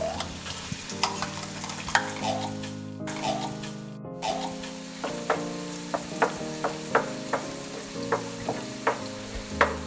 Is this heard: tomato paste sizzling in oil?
yes